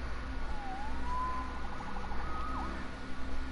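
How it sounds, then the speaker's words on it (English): A faint siren wails in the distance, its pitch gliding up and down over a steady low background rumble. "Saved by the siren."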